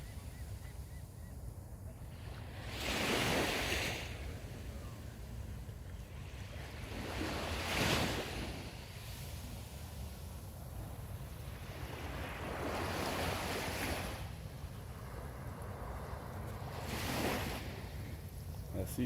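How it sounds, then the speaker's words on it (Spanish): Calm sea waves on a beach in Cancún break gently, rising in soft whooshing swells about every five seconds over a constant wash and some wind. "Está súper, súper tranquila la playa."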